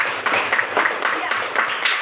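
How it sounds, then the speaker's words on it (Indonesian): Children being applauded in a classroom lesson, a short burst of scattered clapping from a small group, close by, with speech mixed in. "Tepuk tangan untuk mereka."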